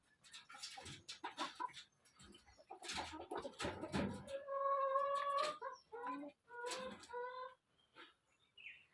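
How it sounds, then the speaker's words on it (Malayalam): Hungry chickens in a coop, not fed since the day before, cluck and squawk loudly in bursts, with several sustained, strained calls rising over sharp, choppy clucks close by. "ഞാൻ രാവിലെ അടുക്കളയിൽ കയറിയപ്പോൾ മുതൽ കോഴികൾ പിന്നെ ഒച്ചയും ബഹളവും കാർച്ചയും എല്ലാം തുടങ്ങിയതായിരുന്നു കേട്ടോ."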